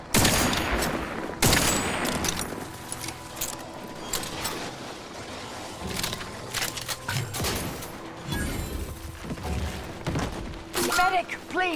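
Dense, loud gunfire in The Outer Worlds 2, a game, with sharp bursts and clattering volleys throughout, layered with game effects and mixed under voices talking.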